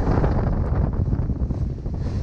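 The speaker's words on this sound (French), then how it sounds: "Le vent a monté soudainement," Strong wind of about 20 knots buffets the microphone in a constant low rumble during a storm in the English Channel, with faint sea and boat noise beneath it.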